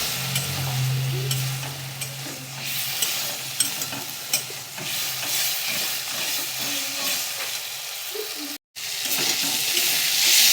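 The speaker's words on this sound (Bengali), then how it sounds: "ভালো করে কষিয়ে নিচ্ছি। মশলাটা ভালো করে কষানো হয়ে গেছে" Masala for a rohu fish curry with elephant foot yam is sautéed in a pan, giving a loud continuous sizzle and hiss with repeated spatula scrapes and stirring, broken by one brief silent gap near the end.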